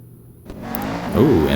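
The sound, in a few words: Chevrolet Camaro engine revving in Real Racing 3 video game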